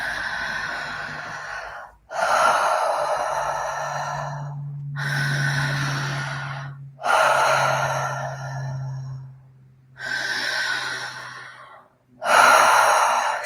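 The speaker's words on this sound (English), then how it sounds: "some circular open mouth breathing if you'd like to join me" Slow, deep open-mouth breathing exercise: five or six long, breathy exhales and inhales in a steady cycle, each separated by brief pauses, with a faint low hum running beneath, close and alone without talk.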